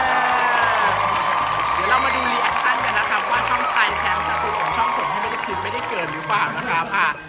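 An audience at a food-tasting event applauds with a steady patter of clapping and a few cheers, fairly loud and tailing off at the end, under a speaking voice.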